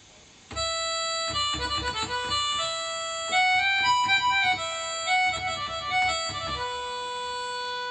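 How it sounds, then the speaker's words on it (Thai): A harmonica preset on a KORG TR keyboard plays a lively Isan-style phrase with quick reedy note changes, close and steady, with no talking. "ต่อไปเป็นเสียง เสียงฮาร์โมนิก้านะครับเนาะ"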